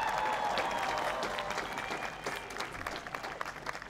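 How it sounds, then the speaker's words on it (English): Outdoor crowd at the National Christmas Tree lighting breaks into loud applause that gradually thins and fades, with scattered cheers and whistles mixed into the clapping. "Give them a big round of applause."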